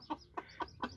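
A hen clucks to her chicks in four short, evenly spaced calls, close and soft, with no talking.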